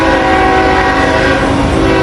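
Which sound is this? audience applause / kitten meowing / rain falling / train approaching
train approaching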